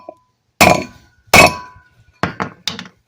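Hammer blows against the wheel studs of a Geo Metro during a drum brake job: two loud, ringing metallic strikes followed by three quicker, sharper hits, each sharp against a quiet background.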